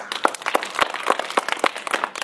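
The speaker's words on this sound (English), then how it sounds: "Can you clap for her?" A classroom of pupils clapping for a classmate, a short burst of loose, uneven claps from a small group, fairly close and unaccompanied by talk.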